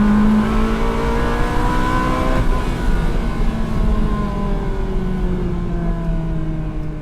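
Ferrari 360 Spider with manual gearbox, its engine revving hard close up, pitch climbing and then dropping after a gear change, loud and continuous with no talk.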